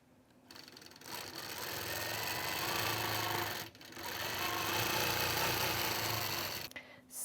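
A sewing machine stitches a feathered quilting line on a Baltimore Album quilt, running in two long steady bursts with a brief pause between and a stop at the end, close and alone without talk.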